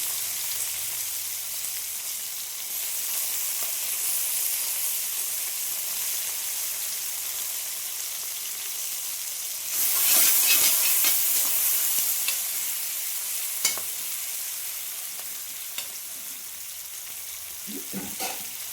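Bay leaf, dried chili and garlic sizzle steadily in hot oil, a broad continuous frying hiss that swells briefly partway through, with a few light scrapes and clicks of stirring and no talking.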